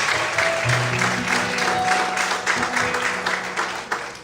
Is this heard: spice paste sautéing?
no